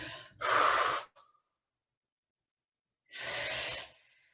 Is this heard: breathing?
yes